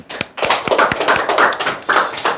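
A short burst of hand clapping from a small group, uneven and sharp, close and loud, with no talking over it.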